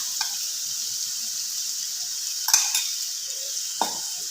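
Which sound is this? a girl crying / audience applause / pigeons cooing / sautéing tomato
sautéing tomato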